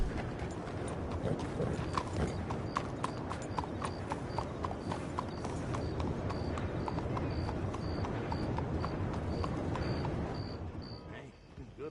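Horse hooves clip-clop in a quick, steady rhythm in the open-world game Red Dead Redemption 2, close and continuous under game sound, then slowing and fading near the end; voices are heard over it.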